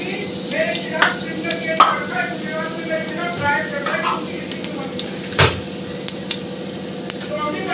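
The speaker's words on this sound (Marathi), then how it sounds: "तेल गरम झालं, त्यानंतर खडे मसाले टाकायचे" Whole spices (cumin, cloves, peppercorns, cardamom and bay leaves) sizzle and crackle in hot oil for masale bhat, making a steady close frying hiss with scattered pops and a few sharp utensil clicks.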